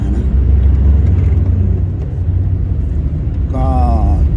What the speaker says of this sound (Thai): ส่วนการขับไปตามทางขรุขระก็ไม่ได้มีปัญหา